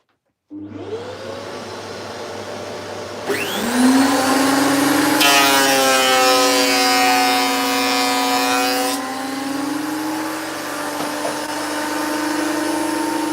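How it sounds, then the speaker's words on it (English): Old flooring boards fed through a power planer: a loud, steady motor whine rises as the cutter bites into the wood, with a harsh, noisy cutting stretch in the middle, continuing without speech. "we're just going to crack on now, get all these planed up"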